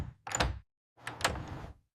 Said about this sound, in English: I open the fridge.